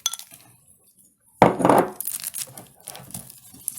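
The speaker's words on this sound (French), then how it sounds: "Je vais rajouter quelques cacahuètes." Peanuts poured into a bird seed mix: after a near-silent pause, a sudden dry rattling rush of nuts tumbling onto seeds, then scattered softer clicks and shuffling, close by.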